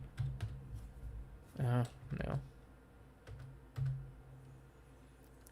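Brief, quiet clicks of a computer keyboard being typed on during a map-making session, sparse and close, with someone speaking a short word over them.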